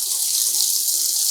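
Cold water runs from a tap into a plastic container, a steady, loud, hissing gush with no pauses and no voices.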